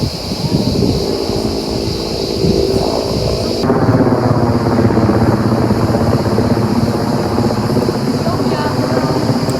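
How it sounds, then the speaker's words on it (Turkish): A firefighting helicopter's heavy rotor thrum roars close and loud throughout, with a steady pulsing drone and a sharp shift in tone partway through as it hovers nearby over the sea by a beach, taking on water during a forest fire. "Helikopter su alıyor."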